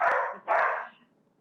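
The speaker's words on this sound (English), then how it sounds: "Just worried that the puppy's barking is too loud." A puppy gives two short, high barks in quick succession, close by and clear, heard alone against a quiet room during an online council meeting.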